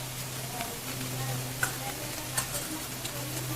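Mutton frying in a pot with ginger paste stirred in, a steady sizzle with soft scraping stir sounds and occasional ticks of the spoon, under a low constant hum.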